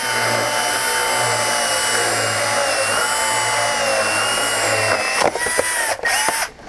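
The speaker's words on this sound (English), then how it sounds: "Then I would just take this and drill this hole here out." Drill with a rotor broach cutting out a 1/8 inch pilot hole for a Dzus quarter-turn fastener, a steady high whine running for about five seconds before stopping, followed by a few short clunks and handling noises.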